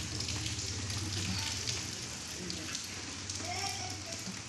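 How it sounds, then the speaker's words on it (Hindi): Heavy rain falls hard on the ground during bad weather in the evening, a steady dense hiss of drops spread across the whole span, with faint background voices at times. "बहुत तेज बारिश हो रही है भी।"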